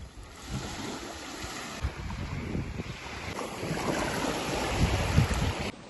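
Sea waves wash along the Odesa shore with steady wind rumble across the microphone, a continuous close wash of surf swelling slightly louder toward the end, with no voices.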